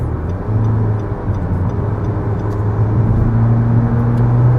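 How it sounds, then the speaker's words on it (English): A 2018 Nissan Sentra SV in eco mode accelerates while merging onto a highway, its engine drone climbing steadily under constant road and wind noise heard from inside the cabin. "RPM goes a bit high as you're speeding up in eco mode."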